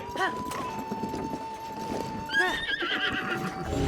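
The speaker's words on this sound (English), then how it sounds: "let's ride our horse over here" A horse in Zelda: Tears of the Kingdom whinnies loudly near the start, with steady clip-clop hoofbeats running beneath game music as the rider moves along, and a second bright neigh rising midway.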